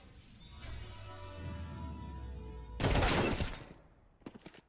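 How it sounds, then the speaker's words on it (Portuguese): Gunfire in a competitive esports match between Imperial and Solid, with a long sustained burst of dense shots around the middle and a second shorter flurry near the end, over a steady game backdrop. "o pessoal da Solid atirando bem, hein?"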